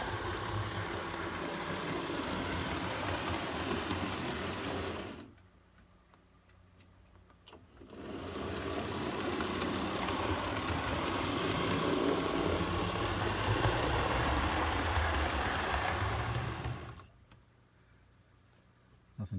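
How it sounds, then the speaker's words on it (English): A small model train motor from a hockey train set whirs and clicks along its track in two steady runs, separated by short pauses, close by. "you get to see a train run"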